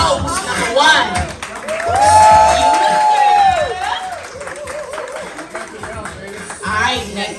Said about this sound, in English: Applause for note number 1.